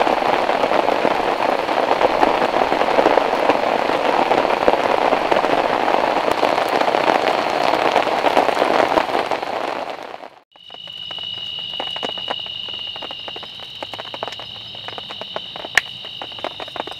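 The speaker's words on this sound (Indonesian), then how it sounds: "Anginnya ke sini, jadi tempiasannya ke sini nih hujannya." Heavy wind-driven rain lashes a campsite in a loud, steady downpour, then abruptly gives way to a quieter, closer patter of drops with a faint steady hum behind it.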